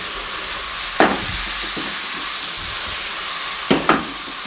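Mashed potato masala cooks in a pan with a constant, fairly loud sizzle, broken by a few sharp spoon scrapes and clinks against the metal.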